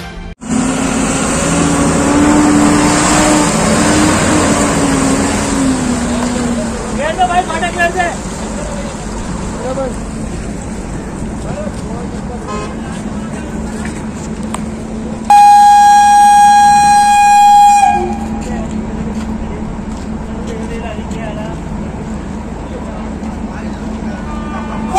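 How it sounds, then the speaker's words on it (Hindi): Traffic jam at a busy Shahjahanpur railway crossing, steady close vehicle rumble and engine noise with a loud horn blast partway through and a voice talking over it. "आप देख सकते हैं किस तरह वाहनों का जाम लगा हुआ है।"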